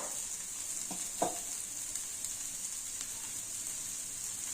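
Rava dosa batter fries in a generous amount of oil on a hot pan, giving a steady, even sizzling hiss with a few soft pops and clicks, heard alone without talk.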